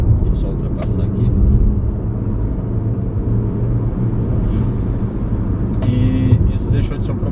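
A Jeep Renegade T270 engine drones steadily while overtaking on the road, a loud continuous low rumble with road noise filling the clip, and a person talks over it throughout.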